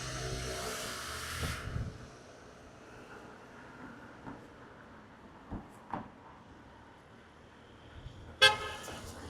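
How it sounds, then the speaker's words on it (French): Car horn honking on a busy street, a short sharp blast near the end after a stretch of traffic rumble and passing noise, loud and close with no talk over it. "il y a un mec qui a klaxonné"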